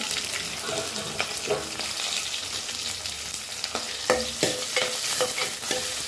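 Onions, green chilies and curry leaves fry in a pan, giving a steady sizzle with scattered stirring scrapes and small pops, close and moderately loud with no voices.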